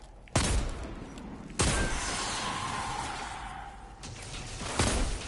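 Hand cannon fire in a PS4 shooter game: three or four loud, sharp shots spaced about a second or more apart, each trailing into a sustained rumbling wash, with no speech.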